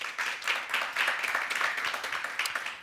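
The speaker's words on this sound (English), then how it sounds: "Please give a wonderful round of applause." An audience claps steadily for a panelist at a forum dialogue on election misinformation, the sound a dense, continuous applause at moderate volume, lasting throughout with no voices over it.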